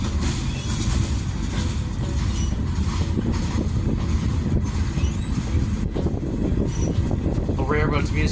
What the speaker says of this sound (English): Flat spots banging and banging rhythmically.